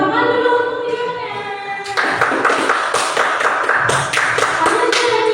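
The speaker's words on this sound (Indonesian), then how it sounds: "Tepuk tangan dulu untuk videonya." A small group claps together in a quick, close burst, following a short stretch of tonal sound before the clapping starts.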